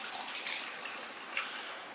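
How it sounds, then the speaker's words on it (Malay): Water is poured for milk coffee in a continuous hissing, splashing stream, close and fairly loud, with no talking. "Tuang air"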